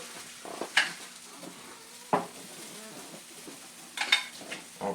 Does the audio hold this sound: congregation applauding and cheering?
no